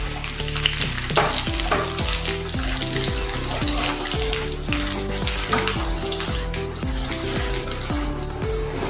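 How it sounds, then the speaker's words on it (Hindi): Leftover roti snack being stir-fried with sesame seeds and curry leaves in a pan, with steady sizzling under repeated rhythmic scraping and clinking of a spoon against the pan throughout. "ये बचे हुए रोटी का नाश्ता इसमें डाल देंगे और अच्छे से इसको मिक्स करेंगे।"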